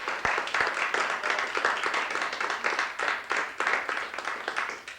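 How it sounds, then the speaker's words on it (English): Audience applauding at an awards show, dense continuous clapping from many hands with some sharper nearby claps, steady and fairly loud throughout, no talking. "Give them one more round of applause."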